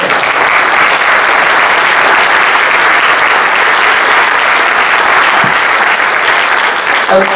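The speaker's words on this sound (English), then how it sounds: "that is a deserved round of applause" Loud, dense audience applause filling the room evenly from start to finish, a sustained wash of many hands clapping together without a break.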